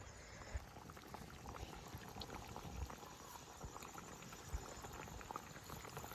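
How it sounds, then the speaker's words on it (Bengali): Curry broth bubbling at a steady boil in a pot in a village kitchen, a soft continuous seething with occasional louder pops, close and alone. "তরকারি ঝোল ফুইটা গেছে গা"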